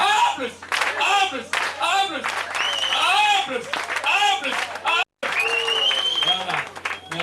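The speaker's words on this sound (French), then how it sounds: "Non, pour le Seigneur, on applaudit 9 fois." A congregation at a Christmas church gathering in Owando claps along, rhythmic hand claps mixed with loud overlapping voices and singing, continuing with a brief break near the end.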